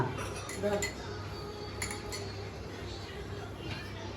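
Steel spoons clink lightly as they are handed out at a family meal gathering, a few faint metallic chinks near the start and middle, under soft room noise and quiet talk.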